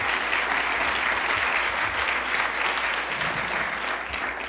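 Audience at a finance conference applauding event sponsors, dense sustained clapping from a large crowd filling the room evenly for several seconds, with no talk over it.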